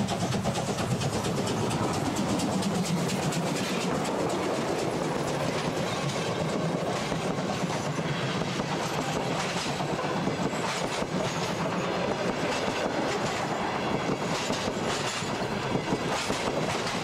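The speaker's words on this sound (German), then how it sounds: "Zug um Zug dampft durch die Stadt." A steam train rolls along the Berlin Stadtbahn city railway with a steady, loud rumble and rhythmic clickety-clack of wheels that holds throughout, with no talk.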